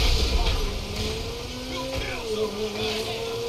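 A car engine in a GTA V style driving game revs and whines at varying pitch as the vehicle speeds along, a moderately loud, continuous motor tone with shifting gears.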